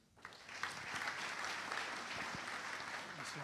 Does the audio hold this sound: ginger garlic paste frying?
no